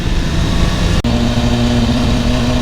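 A BMW S1000RR sport motorcycle's loud, steady engine drone with a sudden split-second cut from the quickshifter, then the pitch settles lower as the engine pulls on during a gear change.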